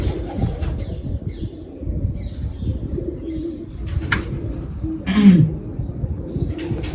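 Pigeons perched at a Punjabi pigeon keeper's loft coo in a steady low murmur, with a few brief chirps and a short flutter of wings near the end, and no talk over them.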